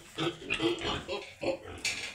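Pigs on a pig farm grunting and oinking, a series of short nasal grunts in uneven bursts, close and fairly clear, with faint farm background between calls.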